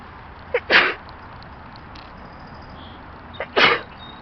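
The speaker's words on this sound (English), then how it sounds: "I'm just gonna sneeze" Two sharp sneezes, a few seconds apart, each with a quick intake before the burst, over a steady low background hiss.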